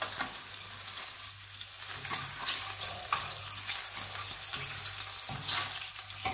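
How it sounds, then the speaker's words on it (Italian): Red mullet fries in a pan with a steady close sizzle and crackle, plus faint scraping as the fish are turned. "le dobbiamo solo far rosolare le triglie"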